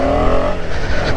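A KTM 250 Adventure motorcycle with the 250 Duke engine pulls away under power, its loud, dense engine drone steady and close throughout, with no voices.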